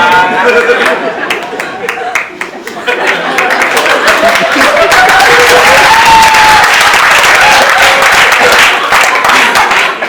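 An audience at a Holi poetry gathering breaks into applause, the clapping swelling after a couple of seconds into sustained loud ovation, with laughter and chatter mixed in and a speaker's voice heard early on.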